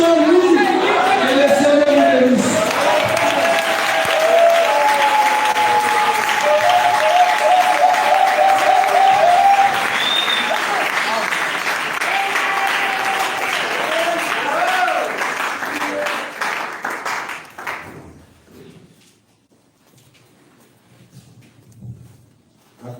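A church congregation applauds as a loud, sustained crowd roar of clapping with voices and cheers mixed in, then it thins and fades out toward quiet near the end.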